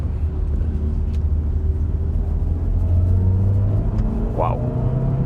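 A 2014 VW Tiguan with a dual-clutch gearbox pulls away hard in sport mode, a steady interior engine rumble rising in pitch with a brief faint whine near the end, a voice speaking under it.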